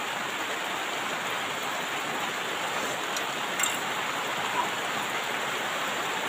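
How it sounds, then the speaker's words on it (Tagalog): Steady, even rain patter outdoors in a rural Philippine province filling the background as a continuous hiss, with a couple of faint clicks or drips standing out. "Umuulan."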